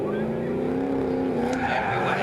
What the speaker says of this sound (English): The revs are starting to rise.